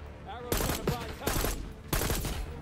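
Bursts of automatic gunfire in the Call of Duty Black Ops 6 video game, three loud, close volleys with a voice speaking briefly before them.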